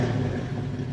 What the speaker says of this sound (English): The 50 Series Delta Flow mufflers have a rumble to them, and you'll be heard when you arrive.